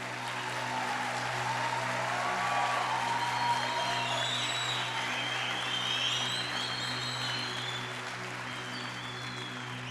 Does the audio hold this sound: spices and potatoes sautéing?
no